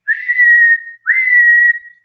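A person imitating a night watchman's whistle with two long, steady, shrill whistle blasts, each slightly rising at the start, close and loud with a brief gap between them.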